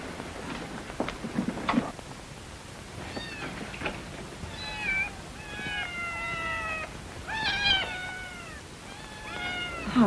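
A cat meows repeatedly, several drawn-out, rising and falling calls close by in a quiet room, with a few faint soft knocks early on.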